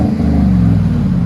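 Chevy Silverado 5.3L V8 pickup with Flowmaster dual exhaust, heard from a distance as a steady, deep engine rumble that holds level throughout the short stretch with no talking.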